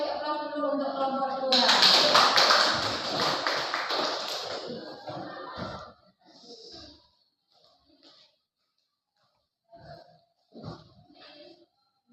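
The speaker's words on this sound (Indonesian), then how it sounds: "kita beri aplaus dulu untuk kelompok 2" A classroom group applauds another class group: a burst of clapping from many hands that builds, holds for a few seconds and tapers into scattered claps, with a voice speaking just before and brief talk after.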